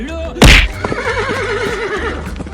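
A cartoon horse lets out one loud, wavering whinny that rises after a sharp slap-like burst near the start, standing alone with no talk over it.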